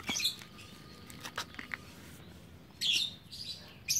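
A lovebird gives short, sharp chirps in a few scattered bursts over a quiet background, with some faint rustling between calls.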